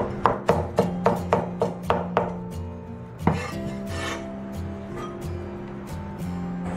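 A knife slices garlic and chops dried chili peppers on a board, giving a quick even run of sharp cuts followed by a heavier chop and softer scraping, close and clear with no talking.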